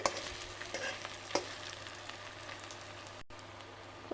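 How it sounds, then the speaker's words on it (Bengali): Khichuri of mixed winter vegetables being stirred in a pot, with a soft, steady sizzle and a few light scraping knocks near the start, fairly quiet throughout. "ভালোভাবে একটু নাড়াচাড়া করে নেব খিচুড়িটা"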